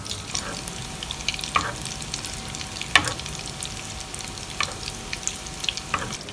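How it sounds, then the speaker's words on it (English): Mutton koftas shallow frying in oil, an even crackling sizzle broken by intermittent clinks and scrapes of a utensil, close and moderately quiet. "koftas are shallow fried"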